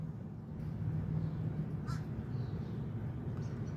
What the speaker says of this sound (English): The crows, too. I try to keep up with the crows.